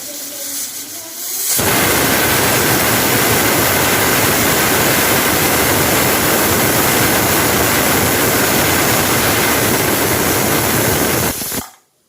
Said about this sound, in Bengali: এরকম একটা সিটি পড়লো আরও চারটে সিটি পড়বে